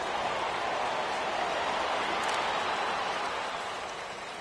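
Steady rain hisses continuously through a football match in a PS4 video game, a broad even wash of noise that eases slightly at the end, with no talk over it.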